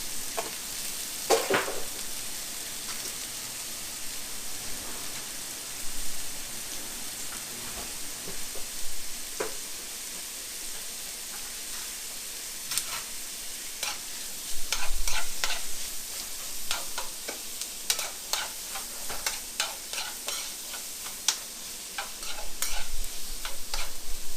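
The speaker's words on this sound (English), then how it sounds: "we're gonna throw the green peppers and red peppers in there" Green peppers, red peppers and onions fry in a pan for a veggie pot pie, a soft steady sizzle broken by frequent stirring scrapes and clicks that grow busier toward the end, with no talk.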